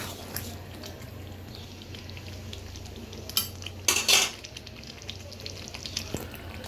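Bengali chicken kasha sizzles in a pan while being stirred. A steady frying hiss runs throughout, with a burst of loud metal utensil clanks and scrapes midway.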